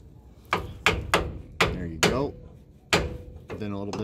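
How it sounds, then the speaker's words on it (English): A hammer taps a twin-piston GM brake caliper in a garage: about seven sharp, close metallic knocks at an uneven pace, some leaving a brief ringing tail. "Probably gonna need to tap it with a hammer."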